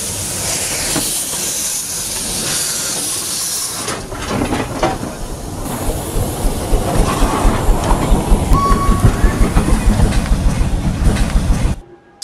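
A Berlin S-Bahn train passes at Wuhlheide station, its loud rumble building into a steady, rhythmic clickety-clack of wheels over rail joints with a hiss before cutting off abruptly.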